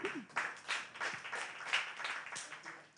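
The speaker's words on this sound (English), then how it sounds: "we would like to give a really genuine round of applause for Sean" An audience at a Uganda media week event gives a round of applause, a soft, steady patter of clapping from many hands heard at a distance throughout.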